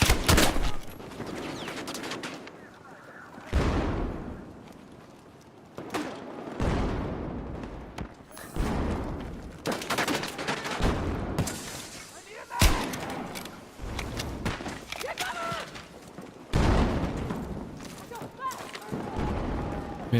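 Sniper rifle shots in a multiplayer shooter game, several loud sharp cracks spaced a few seconds apart, each with a short tail, while a person talks through most of the stretch.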